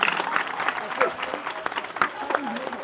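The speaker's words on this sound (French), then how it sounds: "Encore une fois, veuillez applaudir ce discours, s'il vous plaît." Audience applause for a speech at a school tribute ceremony, a steady patter of clapping running throughout with voices and cheers over it.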